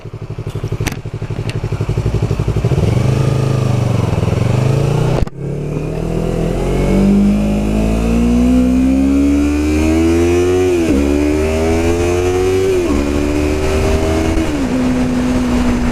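A motorcycle engine runs loudly and close throughout, revving and shifting pitch as it accelerates through gears, with a brief dip mid-ride.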